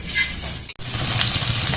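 Dried fish frying in a pan gives a steady, close sizzle with a short break, then the crackle resumes.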